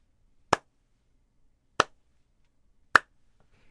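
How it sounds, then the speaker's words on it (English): Three sharp, single hand claps, slow and evenly spaced about a second apart, ringing out alone in an otherwise quiet room. "The old slow hand clap."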